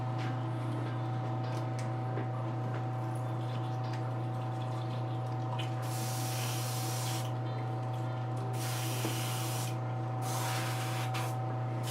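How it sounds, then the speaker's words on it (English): An airbrush being cleaned after painting a custom statue gives off bursts of hissing spray that start and stop several times over a steady electrical hum from the compressor, close and fairly quiet, with no talking. "just cleaning up a little bit. Can't let my airbrush get clogged on me again."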